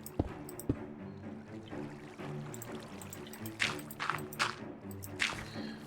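Water pours and trickles into a water wheel in Minecraft with the TerraFirmaCraft mod, a soft steady splashing under low game hum, with a few brighter splashy bursts near the end.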